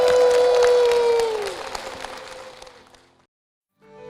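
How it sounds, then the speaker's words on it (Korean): A church congregation at a Korean worship service applauds with a broad wash of clapping beneath a sustained musical tone. The sound fades out to near silence before a brief return at the end. "주님께 영광의 박수를 드리겠습니다."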